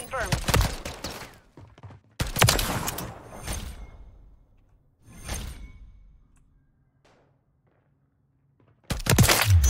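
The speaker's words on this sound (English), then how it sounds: "Shot three without reloading." Sidewinder weapon gunfire in a first-person shooter, several loud close bursts of shots with booming tails, separated by quieter gaps, ending in a final sudden burst.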